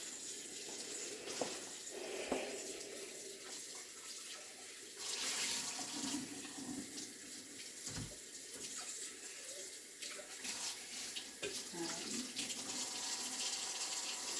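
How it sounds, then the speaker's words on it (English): Tap water runs steadily into a bowl in a kitchen sink while it is washed with dish soap, a continuous close splashing hiss that shifts as the flow hits the bowl, with no talk. "We're just gonna clean out this bowl."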